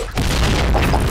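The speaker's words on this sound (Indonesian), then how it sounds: "Fire in the hole." A grenade blast in a video game, a loud, close boom that fills the short moment with a heavy rumbling roar.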